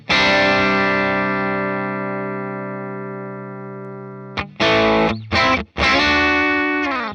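Electric guitar run through a Fractal FM3 with a low-cut filter: a long distorted chord rings out and slowly fades, then several short, choppy chords are struck before another chord sustains to the end.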